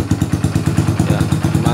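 Kawasaki W175 SE motorcycle with an aftermarket Vannes-model exhaust and Sniper heat shield, revved close by: a loud, deep, bassy engine with steady, evenly spaced thumping pulses throughout.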